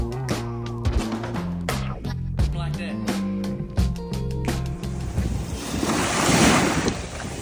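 Red Sea surf on a beach in Egypt washes in with a swelling rush of waves and wind buffeting the microphone, overlaid early on by strong tonal music that fades as the breaking water grows louder near the end.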